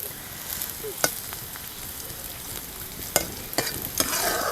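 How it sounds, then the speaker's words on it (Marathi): Onion frying in a pan as garlic goes in and is stirred, a steady soft sizzle broken by a few sharp clinks and scrapes of the spoon, close and alone with no voices. "कांदा भाजत आलाय. आता लसूण पण घालूया."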